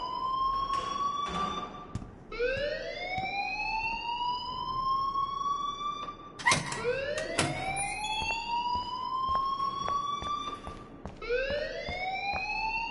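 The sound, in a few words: alarm ringing in the video game Life Is Strange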